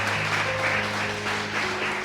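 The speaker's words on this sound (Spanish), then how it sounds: "Dale un aplauso al que vive." Church congregation applauding during a sermon, a dense, even wash of clapping with a steady background hum underneath, continuous and fairly loud throughout.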